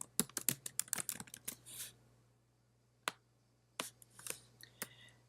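Quick bursts of typing on a computer keyboard, crisp close clicks in irregular clusters separated by short pauses, in a quiet room.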